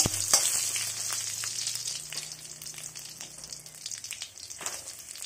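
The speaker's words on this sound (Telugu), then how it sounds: "ముందుగా కడాయి పెట్టి ఆయిల్ వేయాలి. అందులో ఎండుమిర్చి" Dry red chillies fry in hot oil in a kadai, giving a steady close sizzle with crackling pops and light stirring, and no one speaks.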